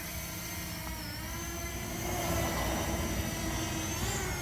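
A Fimi X8 Mini drone flies nearby, its rotors giving a faint, steady high-pitched whine that swells slightly partway through.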